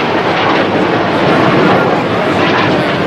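Military aircraft fly over during Italy's 2 June Republic Day celebration, producing a loud, steady broadband roar that holds throughout with no gaps or voices.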